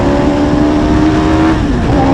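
Loud, close engine roar of a Hayabusa-engined race car with a sequential gearbox pulling hard, the pitch holding high and then briefly dipping and climbing again as it accelerates.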